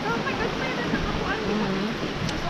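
Asik-asik waterfall gives a steady, dense roar of rushing water, with faint voices murmuring underneath.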